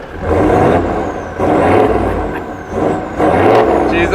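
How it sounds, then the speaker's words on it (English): A 2.8 litre wagon engine and a V8 roar through their exhausts in a series of loud, close revving surges, about four bursts rising and falling with brief dips between them. "Failing to match the beautiful exhaust note of the V8"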